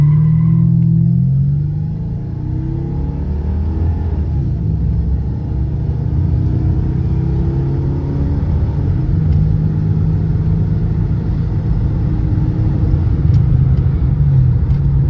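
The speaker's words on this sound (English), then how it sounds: "I love the sound of the mufflers with the windows down." A 1997 Mercury Cougar XR-7 V8 rumbles steadily through its mufflers while driving, a deep continuous drone with occasional rising revs, close and loud, no talking.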